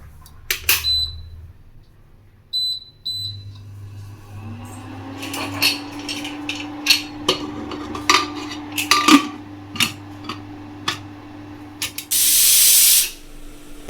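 Pressure cooker boiling five or six washed potatoes for dahi puri, with a steady tone and a loud hissing burst of released steam near the end, preceded by scattered clinks of pots and utensils.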